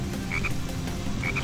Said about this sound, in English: Hey, look, a frog!